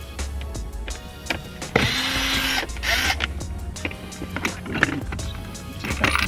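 A screw is taken out of an interior trim panel on a 2019 Subaru WRX, with a short motorized whir from a driver followed by close clicks, taps and plastic handling noises.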